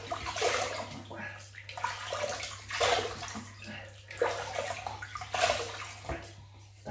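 Tap water runs and splashes in a bathroom sink as a man wets his face before a wet shave with a Parker 65R razor, steady flowing water with uneven splashes rising and falling over several seconds.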